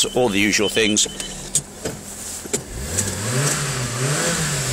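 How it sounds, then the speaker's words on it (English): A Nissan Micra automatic idles, a steady low engine rumble heard close up while someone talks over the start and a few clicks and knocks come through. "so that is idling over perfectly, the engine's spot on."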